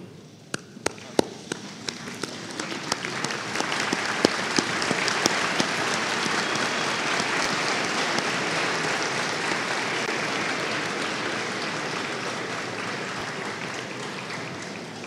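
Graduating students at a spring afternoon ceremony rising to applaud their supporters, a few scattered claps quickly building into a broad, sustained wave of clapping that carries on steadily.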